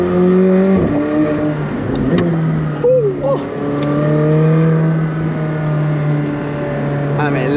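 Engine of a 765 hp McLaren sports car driven fast, heard from inside as a loud sustained roar with pitch shifts and revving swells over several seconds.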